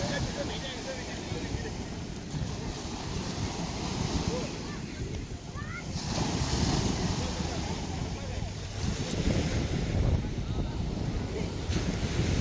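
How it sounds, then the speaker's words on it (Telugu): Sea waves breaking on Maliya Beach, Kuwait, a continuous roar of surf and wind that swells into a louder, fuller surge partway through as a big wave comes in, with faint voices mixed in. "పెద్ద అల వచ్చింది."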